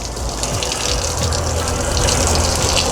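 Water gushing steadily from an RV's outside shower while the RV is being de-winterized, a loud continuous spray and splash heard close up with no talk.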